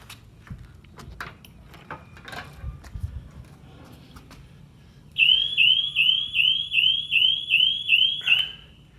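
Dock Lifeguard system alarm at a dock, a loud, shrill electronic pulsing with about eight rapid rising chirps that starts abruptly after several seconds of faint knocks and background noise.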